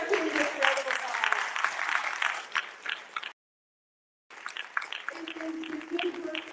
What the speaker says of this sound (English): I would love for you to now give our candidates a round of applause.